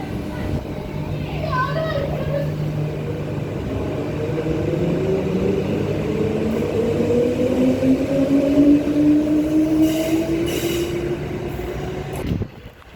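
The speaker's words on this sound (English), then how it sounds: "EMUs 30 and 15 departing platform number 2 for a Fremantle service." Two coupled EMU electric trains depart platform 2 for a Fremantle service, a rising motor whine and rolling rumble building over several seconds, then a sudden cutoff near the end.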